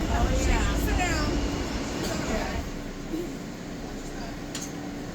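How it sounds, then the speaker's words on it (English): A New York City subway train rumbles along in a loud, steady roar with rattling, and faint voices are heard in the car early on. "The subway brought us to this place called the Oculus."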